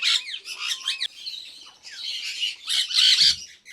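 Parrots squawking and chirping loudly at close range in a rapid, overlapping stream of harsh calls that runs throughout.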